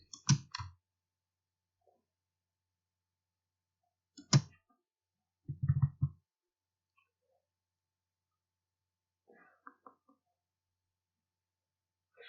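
Keyboard and mouse clicks while entering commands in AutoCAD, a few isolated sharp taps spread across near-silence, close and soft.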